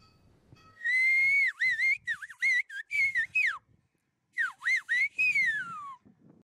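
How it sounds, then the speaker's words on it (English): Loud, close whistled speech, a whistled language with sliding, speech-like pitch contours in short bursts, two phrases separated by a brief pause. "people whistle when they need to communicate from far"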